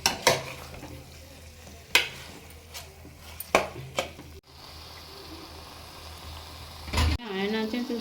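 Goan chicken vindaloo masala roasting in a pan, with spoon scrapes and knocks recurring every second or so over a low sizzle, then a louder hiss near the end.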